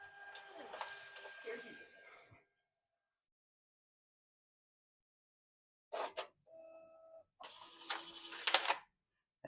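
An office printer runs a configuration sheet, with mechanical whirring and feeding bursts that stop for a long silence, then resume as short clunks, a brief tonal hum and a louder final run, close and moderately loud.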